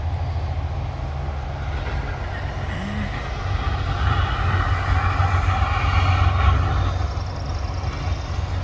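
A small airplane taxis and prepares for takeoff at an airfield in Homer, Alaska, its engine making a steady broadband drone that swells slightly toward the middle before easing off, with no talk over it.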